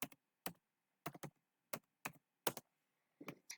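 Keys clacking on a computer keyboard as a password is entered on a Linux CentOS system: about ten sharp, separate clicks in small uneven bursts, close and clear over near silence.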